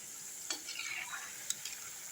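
Onion pakoda frying in oil over medium heat, a quiet, even sizzle with two soft clinks of a utensil, close but faint, no voices.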